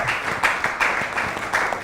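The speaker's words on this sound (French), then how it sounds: "est-ce qu'on peut l'applaudir" An audience claps together at a live stage event, a sustained burst of applause with clustered hand claps throughout, fairly close and steady.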